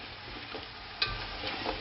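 Onions frying in a pan until golden for chicken biryani: a steady, soft sizzle throughout, with one brief clatter of stirring near the middle.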